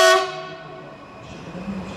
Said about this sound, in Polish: I podstawia się pociąg Intercity Kazimierz do Bydgoszczy.